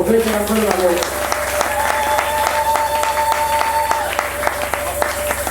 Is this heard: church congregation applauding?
yes